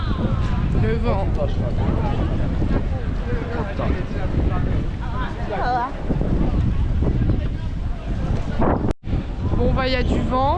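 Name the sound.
strong wind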